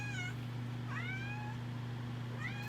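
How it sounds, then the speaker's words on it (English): Houdini, a pet cat waiting at the door to be let in, meows three times, once at the start, once in the middle and once near the end, each call rising and falling over a low steady hum. "my cat wanted to come in"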